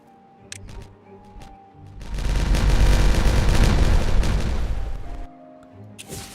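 A dynamite explosion goes off in Timberborn, a city-building video game, as a long, loud rumbling blast. It swells over about three seconds against quieter game music before fading.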